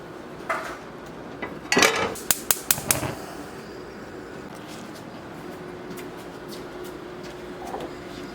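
A cooking pot clanks and scrapes on a gas stove grate in a short cluster of sharp metallic knocks, close by, followed by a steady low hum of the kitchen.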